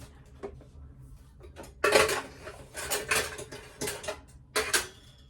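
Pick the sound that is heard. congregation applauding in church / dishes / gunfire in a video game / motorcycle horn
dishes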